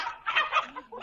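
A bird gobbles like a turkey in an animated Tamil Tenali Raman story: a short, bubbling, warbling gobble that is fairly loud and near, with no talk over it.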